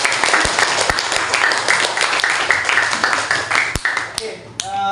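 Classroom applause for the best student group, a steady patter of many hands clapping at close range with a few sharp louder claps, fading at the end.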